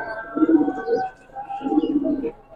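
Giribaz pigeons in a collection coo close by, two rounded, throaty calls about a second apart over a quiet background.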